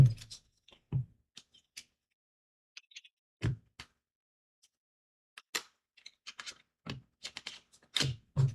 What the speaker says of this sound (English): I'm going to do a little bit of shuffling.